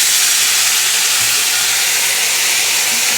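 Water poured onto a sizzling ginger, garlic, tomato and onion paste in a hot pan, giving a loud, continuous steamy hiss that holds steady for the whole stretch.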